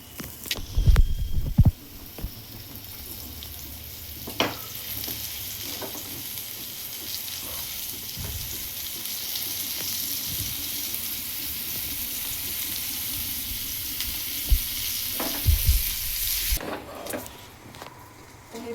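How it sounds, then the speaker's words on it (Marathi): Surmai fish pieces laid one by one into hot oil on a lowered flame, with clattering thuds at the start and again near the end and a steady, moderate sizzle in between. "तेल चांगलं तापले गॅस कमी केल्याने आणि ह्या एक एक तुकडी आता तळायसाठी"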